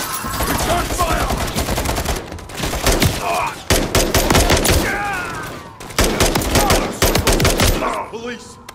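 Rapid bursts of gunfire from automatic weapons crack loudly and close in the video game Call of Duty Modern Warfare 3, in several heavy volleys with brief gaps, mixed with shouted voices and combat effects.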